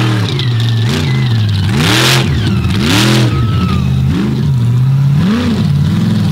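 A pulling truck's engine roars loudly as it revs hard going for a slab wheelie, climbing and falling in repeated surges of pitch.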